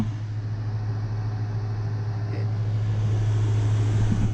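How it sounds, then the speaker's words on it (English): Air conditioner running inside a teardrop trailer parked in a garage: a steady, loud low hum and whoosh that holds constant throughout with no speech. "I've got my AC running in here now."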